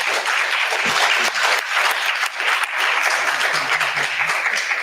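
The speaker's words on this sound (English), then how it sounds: "give our panelists one more round of applause" Audience giving a round of applause to panelists at a history discussion program on the Scottsboro Trials, loud sustained clapping from a full room with steady rhythm, no talk over it.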